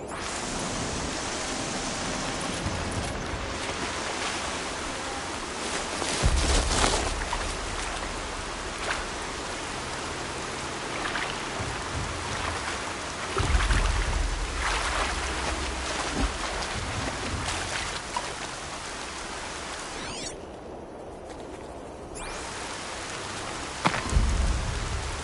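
Rain falls in the video game Horizon Zero Dawn, a constant wash of hissing drops with a few low rumbles and heavier thuds rising at intervals.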